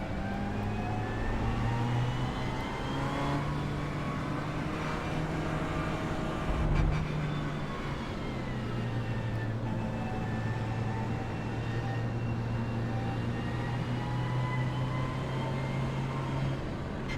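A continuous high-revving McLaren race car engine in a racing video game, steady tonal whine holding pitch with slight shifts, sustained loudly throughout without a break.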